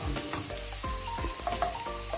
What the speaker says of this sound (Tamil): வெங்காயம் வந்து ஓரளவுக்கு வதங்கிக்குது, முக்காபதம் வதங்கிக்குது.